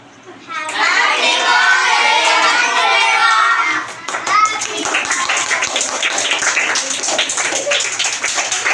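A small group at a child's eighth birthday celebration claps together in a steady, sustained burst of applause with excited children's voices and shouts mixed in, close and loud throughout.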